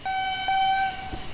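A train whistle sounds in a train simulator game set on the Left Rhine line between Koblenz and Kaiserslautern. It gives a clear, steady tone of just under a second, with a short extra toot, over faint rail rumble.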